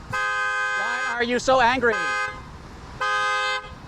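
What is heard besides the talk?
car horn honking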